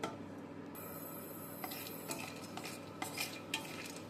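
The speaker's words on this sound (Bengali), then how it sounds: "একটু নেড়ে চেড়ে ভেজে নেব।" Raw peanuts dry-roasting in a kadai are stirred steadily, with a spatula scraping and clinking against the pan in an irregular rhythm over a low continuous hiss. No voices.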